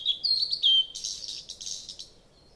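Gouldian finch chirping in short, high, thin calls, with a brief trill up front and then a run of quicker, softer chirps, close and alone without talk.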